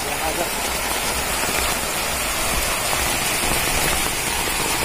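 Heavy rain pours down near the Markanda river and temple, a loud, dense and continuous hiss of drops striking surfaces, steady from start to finish.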